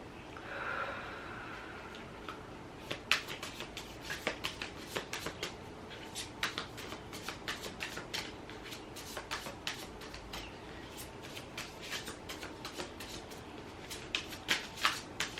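Tarot cards being handled and shuffled close up, with a quick run of crisp riffling flicks and slaps that repeats in bursts over a quiet room.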